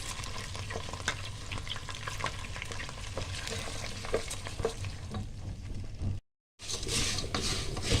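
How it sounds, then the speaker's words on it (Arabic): Plain rice frying in a mix of ghee and oil, a steady close sizzle broken by scraping stirring strokes, with a brief silent gap near the end before the sizzling resumes. "حطيت شويه سمنه وشويه زيت عشان احمر الرز"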